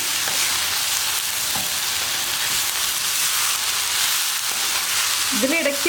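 Ridge gourd stir-frying in an iron pan over high flame gives a steady, close sizzling hiss throughout, with occasional scraping of stirring near the end.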